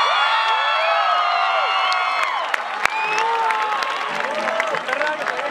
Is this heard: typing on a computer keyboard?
no